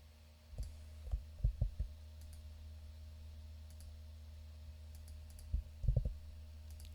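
A few sharp computer mouse clicks in small clusters, quiet and close, separated by long pauses over a low steady hum while configuring a Docker MySQL container.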